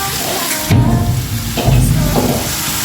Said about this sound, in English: So those are the onions frying. I'm shallow frying them on a pan.